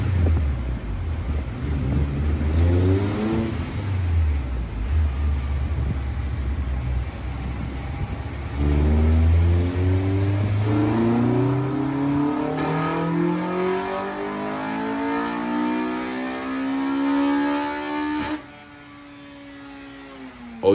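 A car on a dyno fitted with a cold air intake revs hard, its engine note climbing steadily over many seconds from a low rumble to a loud high wail, then cutting off abruptly, with a constant hum underneath.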